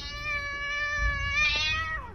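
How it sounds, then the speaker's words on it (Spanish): A cat's long, wailing meow, drawn out like crying, holds steady for about two seconds before bending downward at the end, loud and close with a low rumble underneath and no talking. "me vi súbitamente despertado por el incesante gemido de un gato que parecía llorar"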